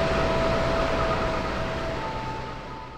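The Mataram train pulls out of Solo Balapan station, its steady rumble and rolling noise carrying with a faint tonal whine, gradually fading as it moves away.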